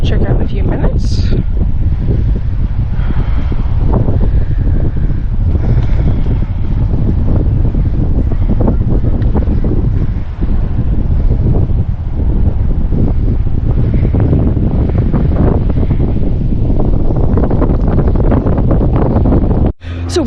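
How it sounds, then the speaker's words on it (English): Strong, blustery wind at the top of the Ponce Inlet Lighthouse batters the microphone with a loud, continuous roar that gusts without letup for about twenty seconds before cutting off abruptly. "it was very blustery up there"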